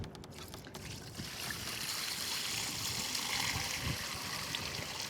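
Water pours into a wash bucket for a rinseless car wash, a steady rushing trickle close by that holds throughout.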